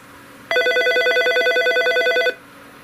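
A Norstar business phone system telephone rings for an incoming call, a steady electronic ring with a fast warbling pulse lasting about two seconds, clear and close, with no talking.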